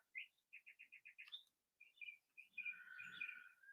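Small birds chirp outdoors on a mellow evening, with quick runs of evenly spaced high tweets followed by a busier burst of overlapping calls. They sound faint and fairly distant.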